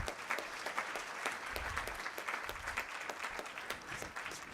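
Sustained applause from an audience at a career event rolls on evenly for a few seconds, a dense and moderately loud patter of many hands with no speech over it.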